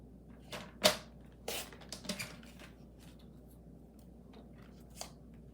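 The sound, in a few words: cutting paper pieces for a craft project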